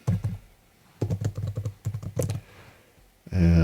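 Keystrokes on a computer keyboard while entering a link in Notion, coming in quick bursts of crisp clicks separated by short pauses, close and clear.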